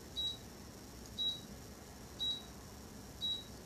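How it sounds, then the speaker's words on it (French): Electronic beeping inside a house, four short high-pitched beeps evenly spaced about a second apart, clear and fairly close over a quiet room hum, with no talk. "C'est quoi qui bip dans ma maison ici là?"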